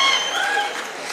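A crowd at a live Marathi stage comedy show claps in a quick, loud burst that fades slightly toward the end, with a voice talking over the applause.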